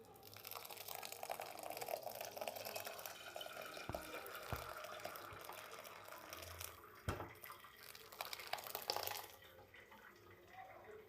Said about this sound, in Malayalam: ആ വെള്ളം നമുക്ക് ഇതിലേക്ക് ഡ്രെയിൻ ചെയ്ത് കൊടുക്കാം